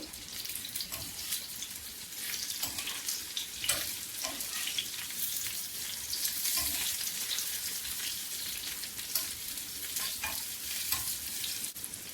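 Eggplant fries in oil with a continuous, fairly quiet hiss and crackle, broken by occasional scrapes and clicks from stirring throughout.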